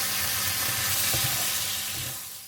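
Sauce for Thai drunken noodles sizzles hard in a hot wok with oyster sauce, sugar, seasoning soy sauce and fish sauce, a steady loud hiss with a few scraping stirs, fading slightly at the end.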